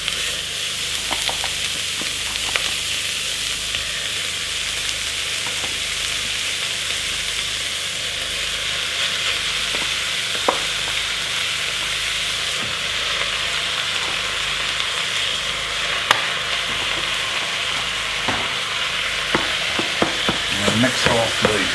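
Minced meat for lasagne sizzles steadily in a pan for the whole stretch, with a broad hiss and scattered scraping knocks as a utensil stirs it through; no voices.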